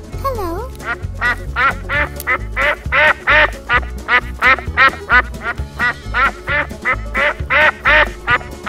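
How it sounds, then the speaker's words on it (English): Repeated duck quacks from an animal video game, a rapid series of loud, close calls sounding one after another over a steady musical backing, with a brief sliding tone at the start. "Duck."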